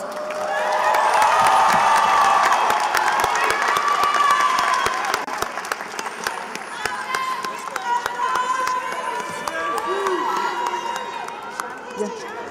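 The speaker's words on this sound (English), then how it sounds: "give them a round of applause" Sustained applause from a large crowd at a college graduation ceremony, loud at first and then tapering slightly, with scattered cheers and voices mixed in.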